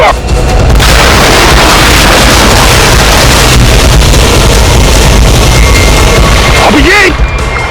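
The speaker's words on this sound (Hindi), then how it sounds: "अब किसने गोली चलाई?" A gunshot rings out in a Hindi crime drama scene, a loud booming blast followed by sustained heavy, noisy rumble and echo filling the clip.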